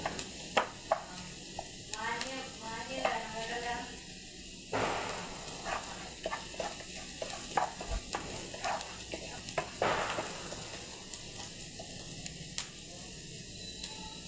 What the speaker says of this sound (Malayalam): സവാള ചെറുതായിട്ടൊന്ന് വഴണ്ട് വരട്ട്